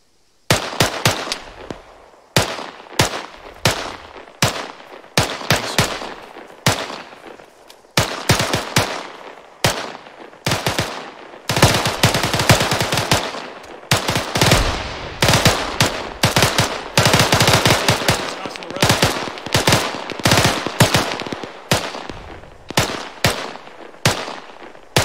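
Rapid bursts of automatic rifle and machine-gun fire from an infantry assault in Arma 3, loud and close, with short volleys giving way to long sustained stretches of shooting and no talk.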